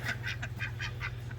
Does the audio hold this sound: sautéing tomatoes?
no